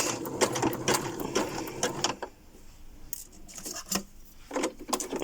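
Sewing machine stitching ribbon, a close rapid mechanical rattle in bursts separated by short pauses, with a few clicks as the work is adjusted.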